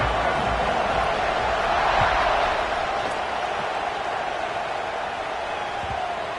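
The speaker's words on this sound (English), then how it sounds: "this crowd is buzzing after that last score" Steady broadband roar of a large football stadium crowd buzzing after a score, a continuous murmur of many voices at an even level with no distinct cheers breaking through.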